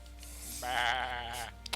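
A goat in the Skyrim video game lets out a single nasal, wavering bleat lasting under a second, clear and close over a steady game background hum.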